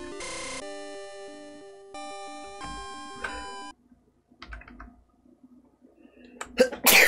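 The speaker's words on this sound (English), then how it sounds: "I'm gonna sneeze" A tinkling electronic melody plays, fades to near silence and faint rustling, then one sharp, loud sneeze bursts out close up at the very end.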